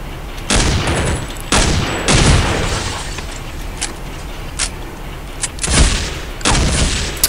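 Shotgun blasts in the video game Counter-Strike: Condition Zero Deleted Scenes, several loud booming shots spaced irregularly with short gaps and quieter clatter between them.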